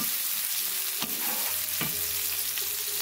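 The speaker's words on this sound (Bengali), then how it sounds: "পেঁয়াজটাকে খুব ভালো করে ভেজে নেব" Oil sizzles steadily in a pan with a couple of spatula scrapes as onions are stirred, close and moderately loud.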